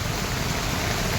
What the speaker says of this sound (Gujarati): જોઈ લો કેવો વરસાદ વરસે છે